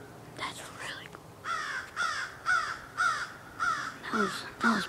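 Several crows caw by a pond, loud and fairly close, in a steady series of harsh calls. The last few are doubled. A soft voice murmurs faintly early on.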